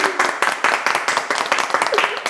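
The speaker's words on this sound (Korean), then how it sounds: "우리 이 아름다운 청년들을 큰 박수로 모셔보겠습니다" Audience applause for young guests fills a church-style event hall, a burst of close, steady hand clapping from a crowd lasting a couple of seconds.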